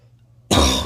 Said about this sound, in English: I apologize for the constant coughing.